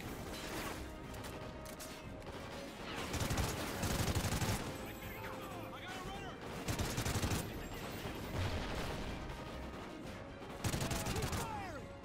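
Rapid bursts of gunfire crackle through dense Call of Duty: Ghosts game action on PS4, with heavier volleys every few seconds and mechanical clatter in between.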